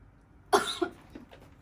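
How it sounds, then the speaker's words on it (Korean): A person coughs once, a sharp burst with a short second hack, close and clear in a quiet room during a church youth service talk. "잠깐 기침한 거 여러분"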